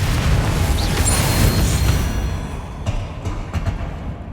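A Confringo fire spell explosion in Hogwarts Legacy on PC, a loud deep rumbling boom that fades into crackling debris over a few seconds.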